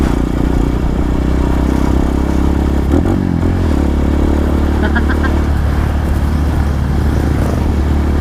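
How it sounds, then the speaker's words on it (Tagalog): A Rusi KRY-200 motorcycle engine rumbles loudly and continuously through its muffler exhaust, with a brief rev and some clattering midway, heard up close under faint talk. "Sarap bomba kasi ganda ng tunog ng ano, yung muffler niya."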